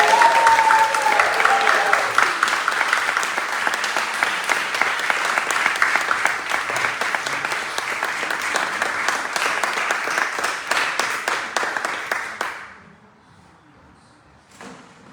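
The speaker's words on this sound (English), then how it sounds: "let's give a big shout and applause for everyone." A crowd at a Kāhili blessing ceremony applauds and cheers steadily for about twelve seconds, dense clapping with a few whoops early on, then fading abruptly to near silence.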